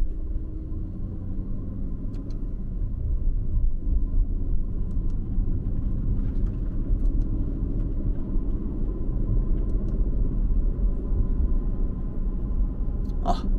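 An Aston Martin Vantage F1 Edition, its engine and exhaust just warming up, gives a steady low rumbling drone that holds evenly throughout, heard from inside the car with no talk.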